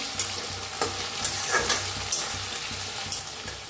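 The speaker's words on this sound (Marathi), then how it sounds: "मस्त असं बटाटो बी आपलं भाजायला लागले, ते बघू शकता खाली अजिबात चिटकलेलं नाही" Diced potatoes frying in a pan for sabudana khichdi, with a spatula repeatedly scraping and stirring them, giving steady close sizzling and crisp scraping strokes throughout.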